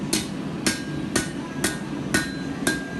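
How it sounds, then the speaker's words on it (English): A blacksmith's hammer strikes a hot steel knife blade on an anvil during a one-day knife-making class, six evenly spaced ringing blows about half a second apart, close and crisp, with no talking. "Pull back across the anvil, light hits"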